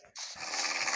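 A dog in Minecraft gives a brief sharp bark that runs into a sustained, breathy, panting-like noise, close and fairly loud.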